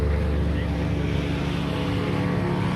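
A sailboat motors out from Wrightsville Beach under engine power, giving a steady low engine drone mixed with wind buffeting on the microphone, close and continuous.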